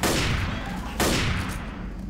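Two loud, sharp sniper rifle shots in Left 4 Dead, one at the start and another a second later, each ringing out and decaying with a long echoing tail.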